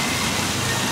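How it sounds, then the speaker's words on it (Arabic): Outdoor fountains in front of a seated spot, their water splashing in a continuous, even rush that fills the brief moment without any talking. "حيكون في صوت كل المي من هدول النوافير اللي قدامنا"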